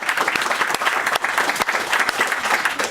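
Lecture audience applause, a dense, steady wash of many hands clapping at an even loudness, with no voices on top.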